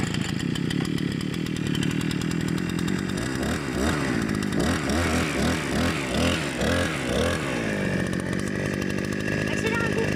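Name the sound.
GT Garden brush cutter engine starting and revving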